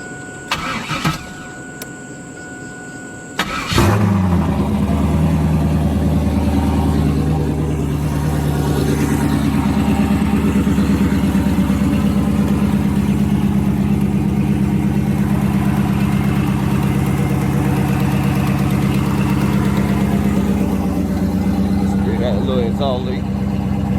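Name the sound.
car engine running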